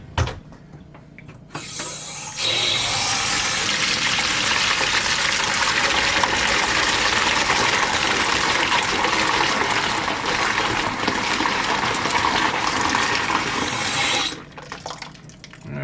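Hot water from a kitchen tap gushes steadily into a small bowl in a sink, a loud continuous rush lasting about twelve seconds, starting and stopping abruptly with quiet handling sounds before and after.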